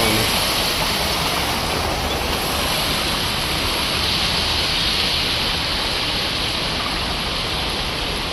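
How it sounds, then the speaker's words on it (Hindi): Heavy rushing water from floodwater overflowing street gutters during torrential rain in Delhi, a loud, steady broadband roar that continues throughout. "इतना पानी हो गया कि गटर के ऊपर निकल रहा"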